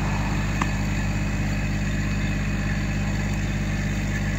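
The engine of a Massey Ferguson GC1710 compact tractor idles close by with a steady, droning, low, even rumble and no talking.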